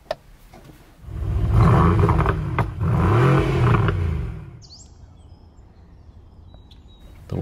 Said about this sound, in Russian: Другими словами, заведем этот автомобиль.